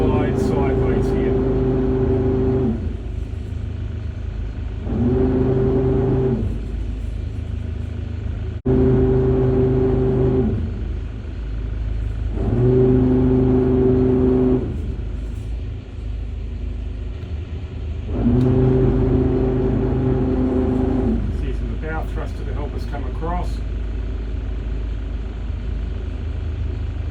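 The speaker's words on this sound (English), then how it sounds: "The starboard engine into idle for a second." Marine diesel engines on a sailing yacht crossing the Bay of Biscay, manoeuvring with the port engine in reverse and the starboard engine dropped to idle, give a steady low rumble that rises and falls in repeated surges, with people talking over it.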